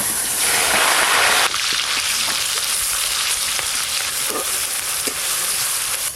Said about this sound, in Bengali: মালাইকারির জন্য গোটা গরম মশলা ফোড়ন করে নেব, আর দেব পেঁয়াজ বাটা